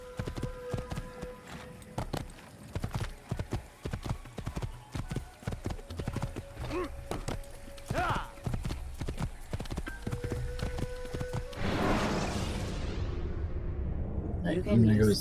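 Horse hooves in Assassin's Creed clip-clop in a steady galloping rhythm under the game's ambient noise, with a whinny and a louder rushing burst near the end.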